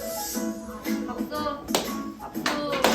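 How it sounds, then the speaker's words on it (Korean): Children clap their hands during an elementary worship service at a gospel church. The sharp claps come intermittently beneath continuous voices and singing in a room. "박수. 여기 찬양 시간에 왜 쓰시더래? 박수."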